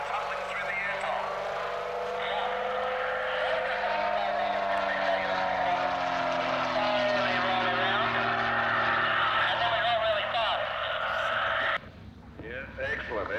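A propeller aircraft engine droning through an aerobatic display at an outback airshow in 2001, steady and fairly loud with shifting pitch as the plane tumbles, cutting off abruptly near the end; a voice talks over it.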